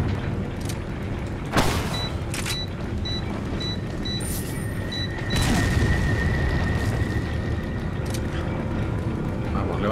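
A deep boom from an explosion in the video game Resident Evil 4, set in the mines, rising out of a steady rumbling background with a second swell a few seconds later and faint electronic beeps.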